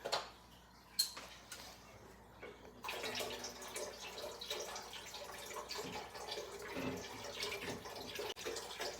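Chicken broth pours into a soup pot as a continuous close splashing gurgle, following a few sharp clicks and knocks at the start, with soft clatter near the end.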